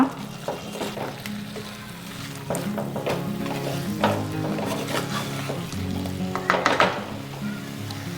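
Ground masala is stirred into Mangalore-style chicken sukka in a hot pan, giving a steady sizzle with repeated scraping and clinking strokes of the spoon, close and alone without talk.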